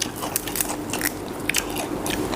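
Someone bites and chews Thai Isan-style sliced raw beef and liver close to the microphone, with repeated crisp crunches and wet chewing at an irregular pace.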